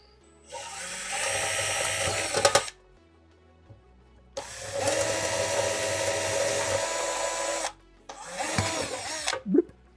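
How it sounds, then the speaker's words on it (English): A drill with a number 30 bit whines in three bursts, two long and one shorter, close up, with brief quiet gaps between them. "now we're going for our number 30 drill"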